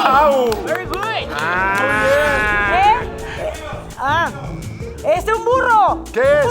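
A person on a TV game show imitates a cow, letting out loud, drawn-out moos with rising and falling pitch, mixed with lively talking and other voices.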